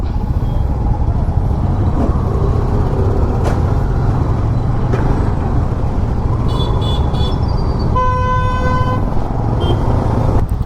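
Dense Bangalore city traffic rumbles steadily around a motorcycle while scattered horns toot; one sustained honk blares near the end, and no one speaks.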